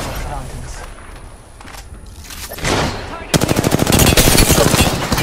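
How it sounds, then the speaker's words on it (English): Rapid automatic gunfire from Apex Legends in a firefight, with scattered shots at first, then a dense, loud burst of repeated shots, with game voice lines over it. "They're shooting at me."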